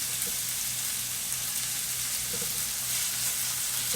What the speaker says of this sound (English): When meat is cooking and it sticks, it means it's not ready to turn.